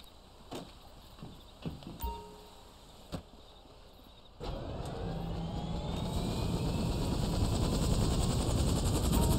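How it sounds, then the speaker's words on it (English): A helicopter in GTA 5 opens with a few scattered knocks and clicks, then its rotor and engine roar in abruptly and build into a loud, steady drone, with no talking. "I guess this is our chopper."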